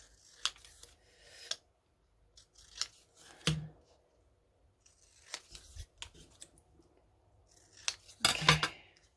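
Scissors snip through a paper stamp being trimmed for a botanical-themed journal, a series of close, quiet cuts in irregular bursts with small handling clinks between them.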